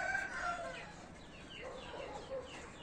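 A Pareel rooster crows in a drawn-out, fairly close call, with a cage setting around it and no talking.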